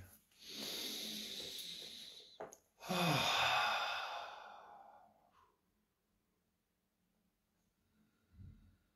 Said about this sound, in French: je vais me prendre quelques secondes pour respirer